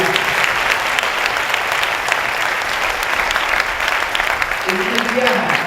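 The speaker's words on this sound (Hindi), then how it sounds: "प्रभु के लिए ताली बजाएं" Sustained, dense clapping from a church congregation at a Hindi Christian worship gathering, steady and fairly loud throughout, with a faint hum of voices near the end.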